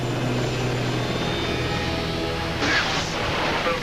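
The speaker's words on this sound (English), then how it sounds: "Apache gunships, the Army's flying tanks" Apache helicopter gunships fly overhead, a loud steady rotor and engine drone with a whining turbine tone, swelling slightly near the end.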